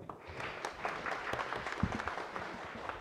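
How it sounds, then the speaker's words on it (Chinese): Scattered applause from a modest audience at a taxpayer rights protection forum, fairly faint and continuous for a few seconds, with individual claps audible in the mix. "掌声"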